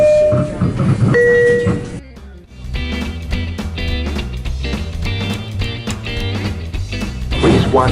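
A New York City subway train rumbles and clatters at close range, with a tonal chime and electric whine early on, then a steady loud run of wheel rattle and rhythmic track clacks as it moves along.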